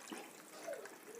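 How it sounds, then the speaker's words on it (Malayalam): Water poured from a mug into a pot of rice, a short, faint rushing splash heard alone. "മൂന്ന് മുന്ത വെള്ളം ഒഴിച്ചു."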